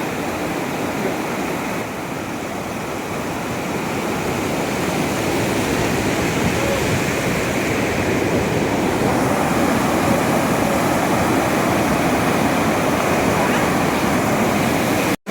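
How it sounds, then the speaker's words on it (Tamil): Stream water flows steadily under a small bridge, a continuous, even rushing wash that holds at a constant level throughout, close by and uninterrupted. "இங்க பிரிட்ஜ் இருந்து பாருங்க அவ்வளவு அழகா தண்ணி போகுது"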